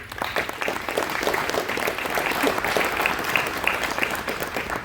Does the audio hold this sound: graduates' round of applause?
yes